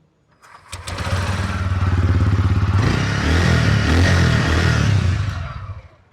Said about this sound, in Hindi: अभी मैं आपको इसको स्टार्ट करके भी दिखा दूंगा